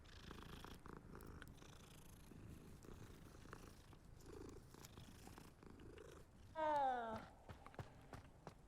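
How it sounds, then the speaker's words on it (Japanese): A cat in the video game Hogwarts Legacy purrs steadily amid soft game ambience and footsteps, then gives one short, clear meow near the end. "あ、かわいいこの猫。"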